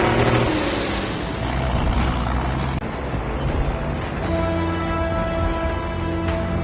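A truck fitted with a jet turbine engine roars loudly in a film scene, a dense mechanical rumble with rising and falling high whines and a sustained tonal drone, no talk.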